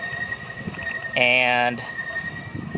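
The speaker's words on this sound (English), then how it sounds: "I'm sorry for the noise. I do have some trains going behind me" A train passes briefly, with a strong harmonic squeal of wheels for about half a second amid rumble, while a person talks over it.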